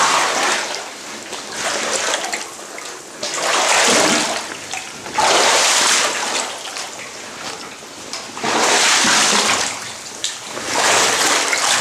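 Sloshing and splashing as someone wades through calf-to-thigh-deep water inside an abandoned sewage treatment plant, with loud surges of churning water in repeated bursts between quieter trickling stretches, close up and without talk.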